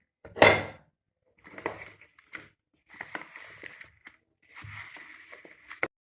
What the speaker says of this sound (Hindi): और अच्छे से इसको मिक्स कर लेंगे